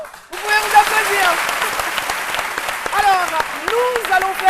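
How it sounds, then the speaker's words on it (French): Audience applause and cheering in a TV studio during a French midday talk show special with a rapper, a dense steady clapping wash with shouts and a host's voice rising over it. "Vous pouvez vous applaudir."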